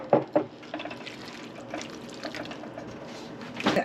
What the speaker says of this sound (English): I'm going to add a little bit of water to that.